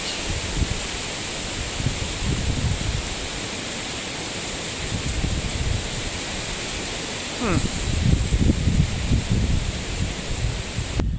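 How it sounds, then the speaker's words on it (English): Gusty wind buffets the microphone in uneven rumbling bursts, rising and easing over a steady hiss, with a stronger gust near the end. "now it's really windy, and that's going to wreck all my audio"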